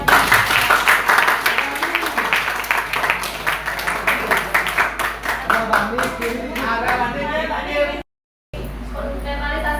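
Classroom applause for a student group, a burst of many hands clapping loudly and steadily at close range that fades away near the end, with talk mixed in.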